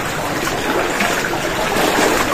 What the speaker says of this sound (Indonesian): Pancuran air ya